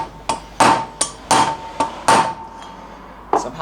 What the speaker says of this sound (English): you can hear how the hammer note changes as